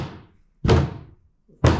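A plastic interior trim panel from a Foxbody Mustang is knocked twice, giving two loud, dull thuds with short decays separated by silence.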